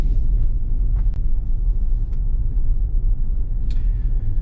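A Tesla drives along the road with a steady low rumble of road and tyre noise close up, broken by a few faint clicks and ticks and no talking.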